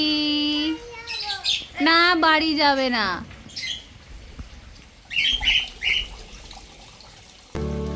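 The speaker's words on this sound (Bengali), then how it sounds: "চলুন আপনাদেরকে নিয়ে যাই একবার পাখির খাঁচাটিতে কি করছে পাখিগুলো একবারটি দেখে আসি" Pet birds in a home cage give a few short bursts of chirps and squawks near the start, then a quieter stretch broken by a couple more calls, with a person talking in between.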